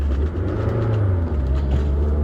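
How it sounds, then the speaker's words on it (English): A car engine revving with the clutch pressed, a steady low rumbling drone held close and loud for a couple of seconds. "I was just hitting the accelerator too much while the clutch was down"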